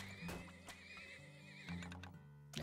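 Horses in the video game Turmoil give loud, repeated neighs and whinnies over a steady, tonal game backdrop, with faint hoof clip-clops mixed in.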